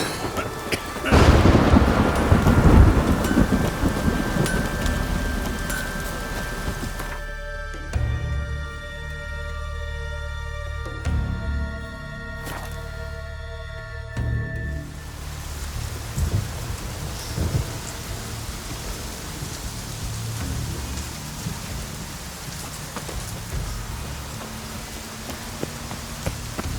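Rain pours steadily in The Witcher 3 while thunder booms loudly near the start. The rain thins through a quieter stretch with sustained tones, then returns as a dense hiss.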